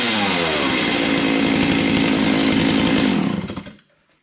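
Stihl 034 chainsaw engine roaring loud and steady at high revs right up close, then cutting off and winding down into silence near the end.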